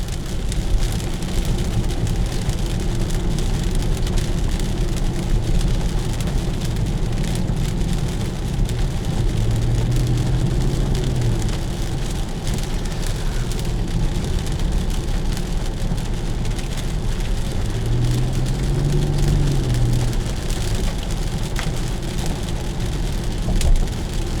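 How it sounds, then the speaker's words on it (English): Steady rain patters on the roof of a 2016 Infiniti QX50 in a constant dense hiss, with a low rumble underneath and no talking. "it's raining"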